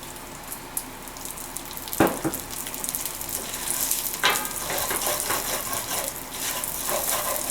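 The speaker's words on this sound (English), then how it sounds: "And now I'm going to roast my brown rice." Brown rice roasts in oil in a paella pan with a soft continuous sizzle, broken by a couple of sharp scrapes and clinks of a utensil against the pan.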